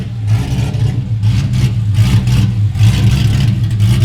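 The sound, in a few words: engine revving loudly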